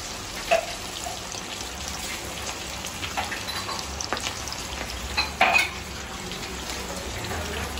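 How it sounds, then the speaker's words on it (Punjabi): Breadcrumb-coated chicken deep frying in hot oil, giving a steady soft sizzle and bubbling throughout with a few brief louder crackles, no talking over it. "ਬ੍ਰੈਡ ਕ੍ਰੰਬਸ ਇੱਦਾਂ ਚੱਲਿਆ ਡੀਪ ਫਰਾਈ"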